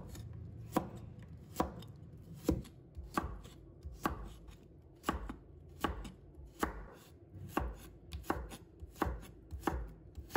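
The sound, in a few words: knife chopping onion on a cutting board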